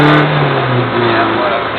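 A car engine revs up steadily as it accelerates after a gear change during a driving lesson, loud and sustained, with an instructor's voice talking over it.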